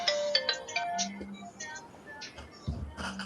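A phone ringtone for an incoming call plays a short melodic pattern of repeated electronic tones, moderately loud, mixed with faint background noise.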